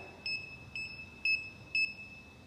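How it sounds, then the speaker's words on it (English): A HUEPAR S04CG 4D self-leveling laser level emits four short, evenly spaced electronic beeps, clear and fairly close, with no talking. "unless you hear the beep, of course"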